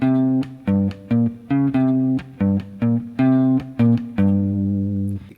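A distorted electric guitar plays a short riff of choppy single notes and power-chord stabs, ending on a sustained ringing note on the root.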